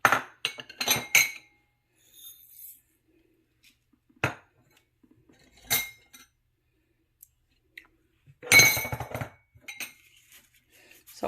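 Several separate clinks and clatters of drink ingredients dropping into a metal pot of heated water, with quiet pauses between them and no voices.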